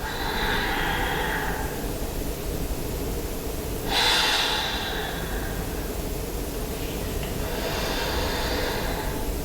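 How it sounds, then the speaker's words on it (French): Deep yoga breathing during a work-break session, with a slow, audible inhale, a held breath, and a long hissing exhale, close and alone over a steady background hiss. "On inspire, on bloque la respiration. Petite rétention poumon plein. Expire."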